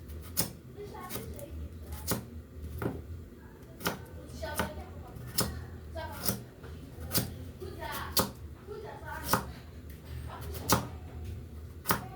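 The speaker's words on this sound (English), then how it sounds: "peel and dice the carrots into small pieces" Carrots are diced into small pieces with a knife, each stroke a crisp, close knock repeating at a steady, brisk rhythm over a quiet background hum.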